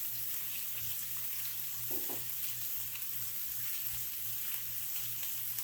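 Whole mushrooms and butter frying in a pan during a steak dinner cook, giving a steady broadband sizzle with a faint low hum and one brief stir or clink partway through, no talking.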